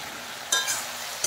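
Tomato and a ginger-cumin paste hit a hot pan for a fish curry, giving a sudden soft sizzle and a brief stirring scrape, then a second short burst of frying, close and fairly quiet.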